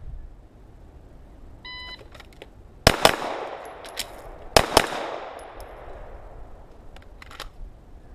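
Pistol shots ring out during a shooting drill with a draw and a reload: an electronic timer beep, then a quick pair of loud shots, a pause for the reload, and another fast pair, with faint beeps and ambient noise between.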